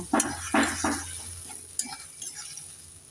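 Flat beans tossed with fried spices in a pressure cooker pot: a few sharp utensil clanks against the metal up front, then softer stirring scrapes over a faint sizzle.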